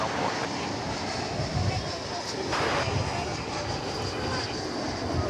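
An airplane arriving at DFW Airport on a flight from Palm Springs gives a steady, moderately loud broadband roar through the whole stretch, with a brief swell midway and gusty low rumble underneath.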